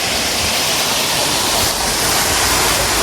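A waterfall roars in a constant, dense rush of water, loud and close, with no pauses and no voices.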